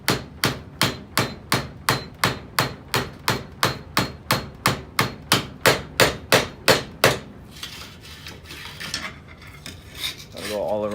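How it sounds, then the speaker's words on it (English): A hammer drives a large flathead screwdriver into the catalyst material of a Genesis Coupe 3.8 primary catalytic converter, with about twenty sharp evenly spaced metallic strikes followed by scraping and rubbing. "hammering it into the material."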